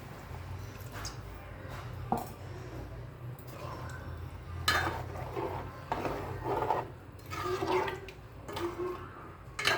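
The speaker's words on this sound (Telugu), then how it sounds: "తగినంత వాటర్ పోసుకోవాలి" Water poured into a pan of egg masala; a close, rushing pour with scraping and splashing noises in bursts over several seconds, moderately loud, with no talk.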